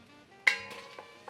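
A spoon scrapes and clinks against a pot while rosemary and herbs are stirred into marinara sauce, a sharp metallic tap followed by a few softer knocks, close and brief, with no talking.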